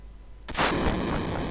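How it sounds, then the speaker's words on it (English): A strike explosion in the Final Fantasy VII video game: a sudden booming blast after a short quiet lead-in, then a sustained loud roar that stays broad and steady to the end, with no talk over it. "And nice looking explosion."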